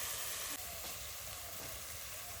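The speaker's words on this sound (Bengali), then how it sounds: "এই পর্যায়ে এর মধ্যে দিয়ে দেবো কাঁচা টমেটোগুলো।" Raw tomatoes go into half-fried spices in a pan for a mustard oil bhola fish curry, giving a faint, steady sizzle that continues evenly throughout.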